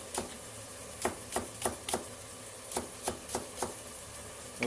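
A knife chops long green onion (negi) on a cutting board, about a dozen crisp, evenly spaced taps at a steady, unhurried rhythm, close and fairly quiet with no talk.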